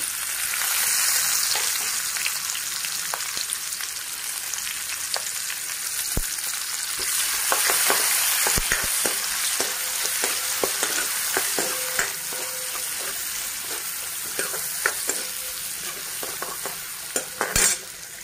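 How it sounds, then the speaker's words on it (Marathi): Finely chopped onion frying in hot oil with bay leaf, cloves, peppercorns and a piece of cinnamon for egg curry, a steady sizzle with repeated spoon stirring and scraping clicks throughout, close and fairly loud, no talk. "आता आपण बारीक चिरलेला कांदा टाकून घेऊ।"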